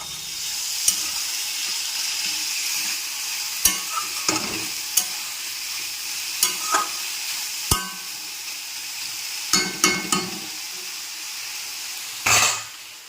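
Potato and bitter gourd frying in a pan on a home kitchen stove, a steady close sizzle broken by scattered sharp clinks and scrapes of stirring, with no one speaking.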